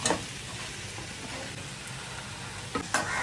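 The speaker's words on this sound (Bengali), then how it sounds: "এর মধ্যে এখন কাঁচা নুন দিয়ে দেবো, তাহলে পেঁয়াজটার থেকে জলটা ছেড়ে যাবে আর পেঁয়াজটা পুড়েও যাবে না" Onions fry in a pan with raw salt added, sizzling steadily at close range, with a few stirring scrapes near the end.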